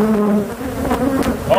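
Bees swarming out of a hive, a loud, dense buzzing drone close to the microphone with individual insects whizzing past throughout.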